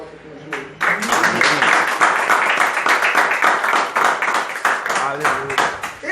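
Audience clapping in church during a sermon, a burst of many hands beginning after a short pause and continuing energetically, mixed with vocal sounds from the crowd.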